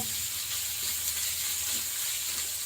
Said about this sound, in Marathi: त्याच्यामध्ये कांदा टाकलेला आहे मी एकदम लालसर होतं तर छानपणे आपल्याला त्याला तळून घ्यायचं आहे